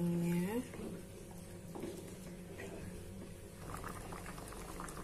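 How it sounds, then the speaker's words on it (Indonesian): Seblak broth with chicken feet, tofu and boiled crackers bubbling at a steady rolling boil in a pot, a continuous close simmering hiss after a brief tone at the start. "Kita tunggu sampai mendidih seperti ini ya teman-teman."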